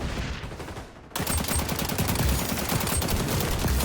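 An AK rifle with a red dot sight in a Call of Duty-style shooter opens up after a short lull, sustained loud automatic fire mixed with dense overlapping gunfire and explosions.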